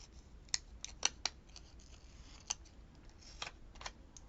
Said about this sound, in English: I'm going to cut this white off the bottom